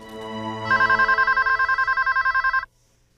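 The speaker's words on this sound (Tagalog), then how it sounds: "could you answer the phone, please?" An electronic telephone rings loudly and close, a fast warbling trill pulsing in rapid regular bursts for about two seconds before stopping abruptly into quiet, with soft indoor music fading beneath at the start.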